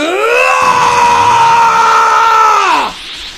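A young person imitating Gohan's Beast-form scream from Dragon Ball, one sustained, loud, strained vocal howl held for nearly three seconds before it breaks off abruptly, close to the mic.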